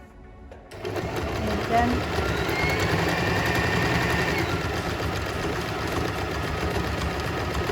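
A sewing machine runs steadily, stitching through two layers of cloth for a washable, reusable cloth project, with a continuous motor whir and a quick needle rhythm while a person talks over it.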